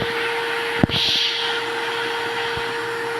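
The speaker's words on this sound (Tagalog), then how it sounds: "May vacuum namin, nagba-vacuum yung mama ko dito sa kwarto namin." A vacuum cleaner drones steadily in a bedroom, a constant close whine with a brief knock near the start, running alone without talk.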